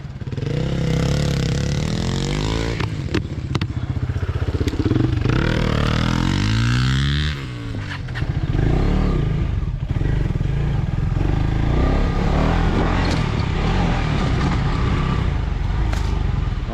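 KTM 250 motorcycle ridden on a race track, its engine droning loud and steady with rising and falling revs through gear changes, a brief dip near the middle before pulling hard again.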